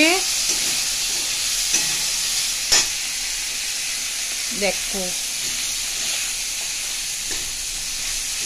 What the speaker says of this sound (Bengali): দেখো চিংড়ি মাছ ভাজা হচ্ছে।